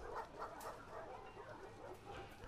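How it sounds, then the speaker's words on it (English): A dog in The Last of Us Part II gives quiet, muffled barks and whimpers, soft and ongoing within the game's background. "I can't say no to this dog."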